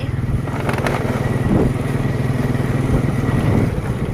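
A motorcycle engine rumbles steadily close by throughout, its droning, pulsing note rising and falling slightly as it rides past on a Thai country road.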